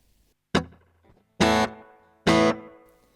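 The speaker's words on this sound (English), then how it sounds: "it's less of what I'd call a delay and more like a spring reverb. Lots of little short, sharp repeats there." Electric guitar through a Rock-Box amp's delay effect set to few repeats, giving a spring-reverb-like tail: three loud, separate chord strikes, each trailed by short, quick repeats that fade into a near silent gap.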